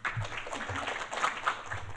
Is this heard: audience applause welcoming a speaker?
yes